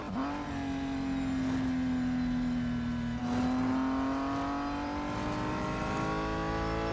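McLaren car engine accelerating in the Real Racing 3 video game, a loud sustained rising whine that dips briefly at a gear shift and climbs again, alone without talk.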